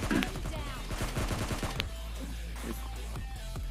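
Rapid bursts of automatic gunfire from PUBG Mobile Lite, a dense run of shots in the first half ending with a sharp single crack, then quieter game ambience with faint distant pops.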